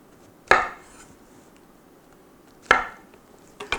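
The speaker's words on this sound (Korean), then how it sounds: "이렇게 4등분으로 썰어 보겠습니다" Knife chopping through a vegetable into quarters for a pork leg steak garnish, with three sharp cutting-board knocks spaced apart, fairly close, no talk.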